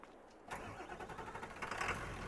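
A Jeep's engine cranks and starts in Farming Simulator 22, turning over abruptly after a short quiet moment and then running at a steady, fairly loud idle.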